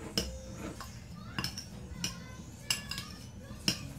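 Kofta meat mixture being mixed with grated thyme in a bowl, heard as a run of soft, irregular clinks and taps of a utensil against the bowl, close by with no talking.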